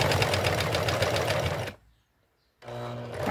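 A sewing machine stitches lace in a fast, even, loud rhythmic run, stops for nearly a second of silence, then starts stitching again.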